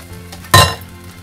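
A ladle of thick amboli batter drops onto a hot pan with a single short burst of clatter and sizzle, near and loud, then fades back to quiet.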